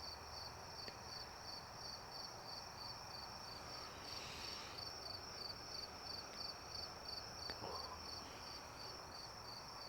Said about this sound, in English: You put the windows open and you just listen to the crickets